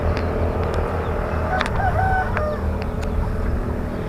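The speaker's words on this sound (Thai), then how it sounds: "ไก่ป่านะครับ เห็นไหมอยู่บนหลังคาเนี่ยวิ่งบนหลังคาเนี่ย" Wild junglefowl on a rooftop give a couple of short crowing calls over steady outdoor background noise, with faint chirps from other birds around them.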